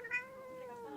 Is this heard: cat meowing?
yes